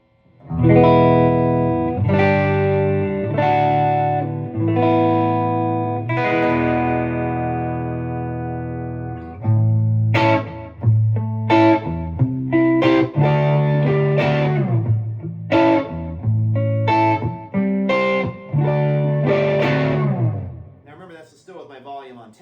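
Electric guitar on the neck pickup through a Carstens Warm Machine amp with slight breakup, ringing sustained chords that give way to busier, picked single-note lines, loud and continuous.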